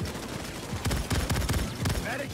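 Sentry turret in Payday 2 firing at an enemy, rapid close bursts of automatic gunfire in quick repeated volleys, with game noise underneath.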